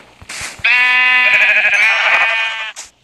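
A Minecraft sheep bleats once in a loud, sustained, wavering cry close by, preceded by a few soft game sounds.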